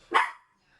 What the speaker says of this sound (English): sorry if you hear Doyle barking.